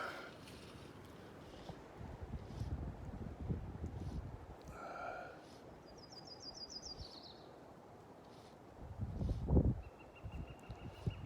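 Gusty wind blows outdoors during a fishing trip, with low blustery rumbles swelling and fading and a stronger gust near the end, while birds call faintly in the distance.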